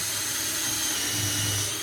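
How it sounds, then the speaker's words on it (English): Power drill pre-drilling a hole in Adirondack chair kit wood, a steady continuous whir held close throughout. "I'm only going to drill one hole at a time."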